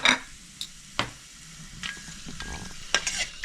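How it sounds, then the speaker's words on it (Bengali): Whole spices, peppercorns and bay leaves fry in hot oil as a spoon stirs them, with faint sizzling broken by several sharp scraping strokes against the pan. "ফোড়নটা কিছু সময় নাড়াচাড়া করে নিলাম।"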